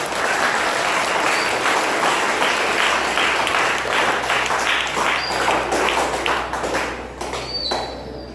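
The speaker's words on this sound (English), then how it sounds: "Let's give them a big round of applause." A school graduation audience gives the Class of 2021 a loud, sustained round of applause, dense clapping that thins and fades toward the end.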